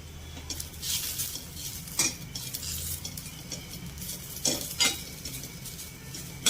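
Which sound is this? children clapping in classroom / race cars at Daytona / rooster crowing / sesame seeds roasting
sesame seeds roasting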